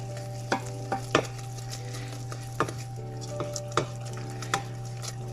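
A spoon stirs sugar into hot boiling cream in a pot for a quick apple-cinnamon bread dessert, with repeated scraping clinks against the pan over a steady low bubbling and burner hum.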